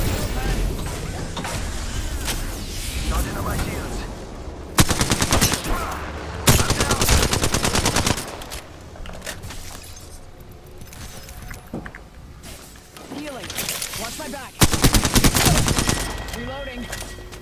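Gunfire in the video game Apex Legends: bursts of rapid automatic fire, loud and close, come in clusters separated by quieter stretches, with game voice lines and player talk mixed in.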